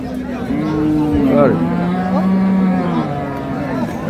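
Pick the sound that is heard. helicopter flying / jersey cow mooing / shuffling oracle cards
jersey cow mooing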